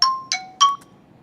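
A 'time passing' chime effect from a video editor plays three quick bright bell-like dings in succession, ringing briefly and fading into quiet.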